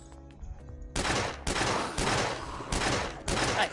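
Gunfire in the zombie shooter game The Last Stand: Union City: four loud bursts of rapid automatic shots, each lasting about half a second, following one another in quick succession.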